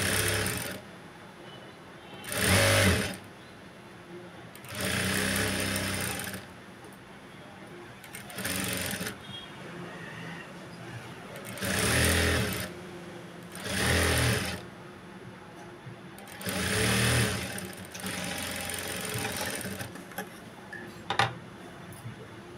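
A sewing machine stitches a Punjabi dress top in repeated bursts, each a few seconds long, separated by quieter pauses, close and loud, with a voice speaking during the gaps.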